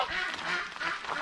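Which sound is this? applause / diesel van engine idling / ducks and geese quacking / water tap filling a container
ducks and geese quacking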